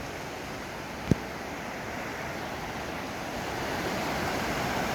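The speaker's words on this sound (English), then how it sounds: "The water's all flowing downhill." Mountain stream water rushing downhill at the bottom of a valley near Mather Pass on the Pacific Crest Trail, a steady broadband roar with wind buffeting the microphone and one brief thump near the start.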